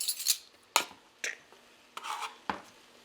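A spoon of baking powder is scraped level, giving a few quiet, close scrapes and light taps spaced across a few seconds.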